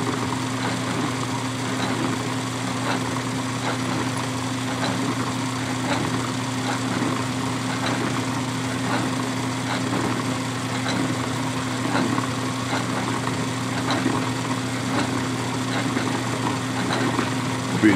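Steady machine hum from a lathe cutting 4130 steel tubing, running continuously near and moderately loud. Faint cutting ticks sit over the drone, and there is no talk.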